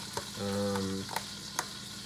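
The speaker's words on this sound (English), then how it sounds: "As you can probably hear, that's the pan. I want it nice and hot for the fish." A hot frying pan heated for frying fish, sizzling softly and steadily, with a few sharp clicks and taps of a utensil nearby, and no talk.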